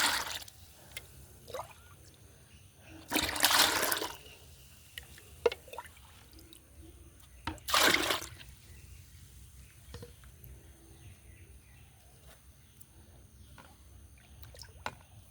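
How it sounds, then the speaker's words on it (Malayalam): Liquid poured onto garden plants, with two distinct splashing pours a few seconds apart, close and fairly loud against a quiet background with faint drips. "ചെടിക്കെല്ലാം കുറച്ച് ഒഴിച്ച് കൊടുക്കാം."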